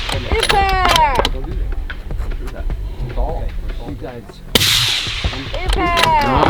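Rifle shots crack from nearby at a precision rifle match on steel targets in South Dakota, two or three sharp reports standing out between stretches of close talking.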